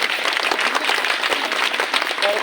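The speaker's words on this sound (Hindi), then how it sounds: "एक बार जोरदार तालियों से स्वागत करें।" Strong, steady applause fills the hall as an audience welcomes a minister at a public conference in Kashiram Colony, Sitapur, dense clapping sustained throughout without a break.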